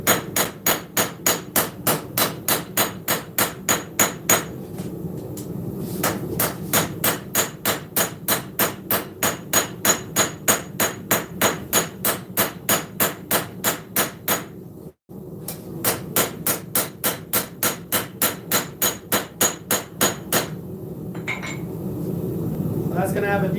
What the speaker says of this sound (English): as you're hammering from the other side.